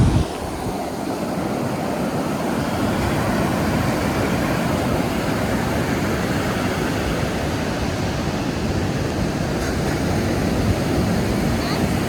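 Ocean surf rolls onto Morjim beach in Goa, a broad, continuous wash of breaking waves with some wind rumble, loud and steady and without clear speech.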